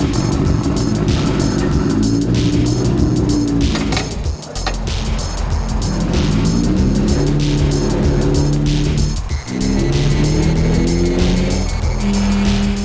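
A tuned high-powered car with a side pipe exhaust replacing the full exhaust system roars loudly, revving up and down through repeated gear changes with brief dips between pulls.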